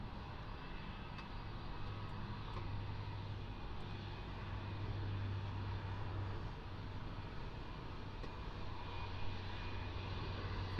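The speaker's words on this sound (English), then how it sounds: "Qantas's third A321 Neos on finals in from Sydney" A Qantas Airbus A321neo on final approach from Sydney drones steadily and faintly from a distance, a low, even engine hum that holds for the whole stretch without rising much.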